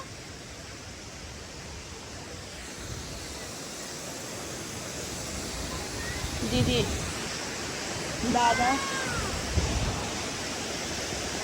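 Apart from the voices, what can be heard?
waterfall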